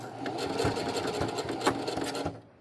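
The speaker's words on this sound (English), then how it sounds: "I'm going to straight stitch across this side seam a little bit" A sewing machine runs a straight stitch along the side seam of athletic pants, a steady close mechanical whir with rapid needle clatter that continues for over two seconds before stopping.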